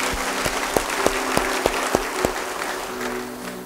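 Congregation applause during an Indonesian church sermon, a full room clapping with several sharp, evenly spaced louder claps standing out in rhythm before the sound settles into a thinner, fading patter.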